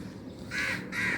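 Crow cawing while being fed fried roti, two loud harsh caws in quick succession close by, with no speech.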